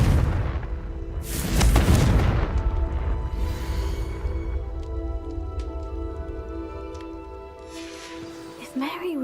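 The Confringo explosion spell in the video game Hogwarts Legacy goes off with a loud, deep, rumbling boom that fades into a lingering crackle and debris rattle, with a voice speaking.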